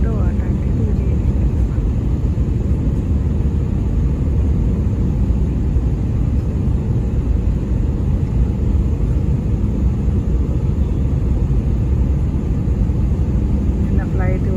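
An airliner cabin in bad weather on a Philadelphia to Austin flight carries a continuous, even engine rumble and airflow roar. The sound holds steady for the whole stretch with no break.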